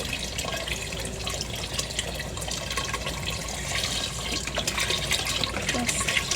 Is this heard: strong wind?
no